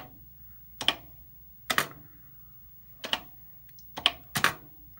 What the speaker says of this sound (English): And the keyboard is responding.